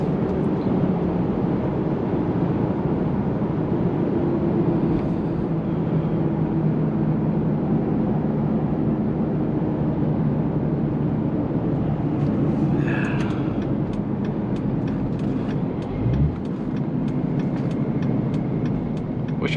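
Cummins twin-turbo diesel truck engine with a six-speed, towing 10,000 lbs at highway speed: a steady, loud, close drone from inside the cab that runs the whole time, with brief rattles and a faint whine near the end.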